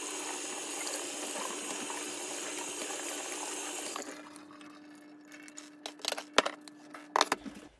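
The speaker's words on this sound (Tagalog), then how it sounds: "Hugasan na rin natin yung karning baka" Tap water runs steadily into a sink while beef is washed, then stops and gives way to wet splashes, drips and clinks of handling the meat in the basin.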